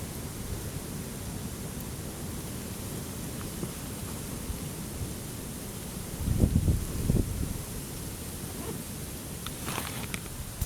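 Steady broadband wind rushes across the microphone for the whole stretch, swelling into a stronger buffeting gust partway through.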